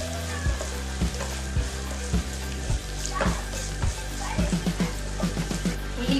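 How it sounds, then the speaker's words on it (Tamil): Onions, green chillies and curry leaves sizzle and fry in a pan, a steady bright crackle broken by repeated scraping stirs, close up, with no talking. "எல்லாத்தையும் நல்லா வதக்கணும்."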